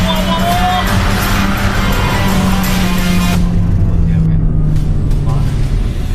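A VW Tharu SUV accelerates hard from a standstill, its engine roaring loudly with a steadily rising pitch while people talk excitedly over it.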